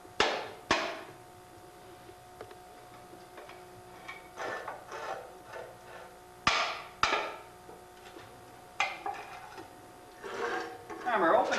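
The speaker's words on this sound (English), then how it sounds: "I just take this handy screwdriver here and puncture a hole in the top" A screwdriver is driven into the top of an oil filter during an oil change, giving several sharp knocking and puncturing impacts with a short metallic scrape near the end. The sounds are close and separated by quiet gaps.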